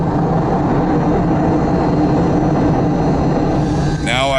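Steady, loud cabin roar of a Soviet Yakovlev Yak-40 jet airliner rolling out after touchdown, a continuous broadband rumble with no talk and a brief higher tonal sweep near the end.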